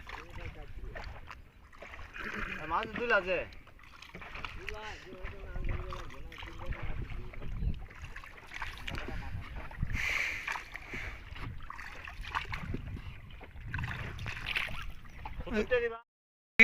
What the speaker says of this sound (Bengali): কাকু ওইদিকে নৌকা বাইতেছে